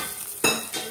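Sizzling burst as hot oil tempered with mustard seeds and dried red chillies is poured into rasam, a sharp hiss near the start of the second half with a smaller crackle following, close and fairly quiet.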